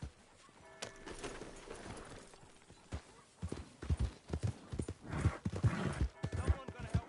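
A horse's hooves clop on a hard surface, a few scattered steps at first, then a quicker run of clip-clops growing closer, with voices talking over them.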